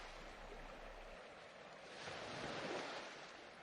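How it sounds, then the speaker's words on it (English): Ocean waves wash onto a moonlit beach, a soft, distant, continuous rush that swells into a fuller surge midway before easing back, with no voices. "The sound of the waves takes on an even more hypnotic quality, with every rush and retreat carrying me deeper into a trance-like state"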